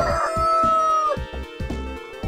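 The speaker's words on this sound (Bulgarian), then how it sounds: "Тук е петелът Джон" A rooster crows loudly and close, several strong call bursts with short gaps between them, heard alone without talk.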